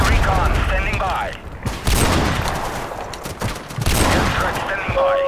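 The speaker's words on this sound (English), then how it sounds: "That was a shot right there." Gunfire from a first-person shooter video game crackles in loud, rapid volleys with booming mechanical bursts. A voice seems to run underneath at times.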